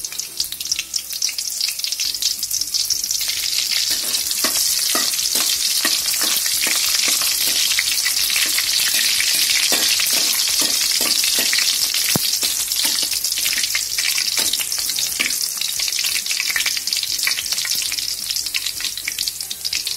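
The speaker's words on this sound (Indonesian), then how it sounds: "Lalu masukkan bawang merah untuk kita tumis." Shallots stir-fry in hot oil for an Acehnese squid dish, giving a loud, steady sizzle with faint stirring scrapes throughout, no voices.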